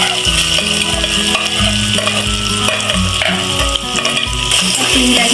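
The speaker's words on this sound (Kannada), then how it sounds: "ಇವಾಗ ಕ್ಲೀನಾಗಿ ಈ ಥರ ಫ್ರೈ ಮಾಡಿಕೊಂಡು ಇವಾಗ ಇದಕ್ಕೆ ಆನಿಯನ್ ಆ್ಯಡ್ ಮಾಡ್ಕೊಳ್ತೀನಿ" Onions sizzle with ginger garlic paste in hot oil for a mushroom biryani, a loud, steady frying hiss close by, with repeated scrapes and knocks of a spoon stirring the pan.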